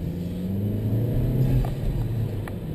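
A 2012 Chevrolet Cruze fitted with a K&N intake on a test drive, its engine a steady low rumble that swells slightly mid-clip, heard from inside with faint road noise.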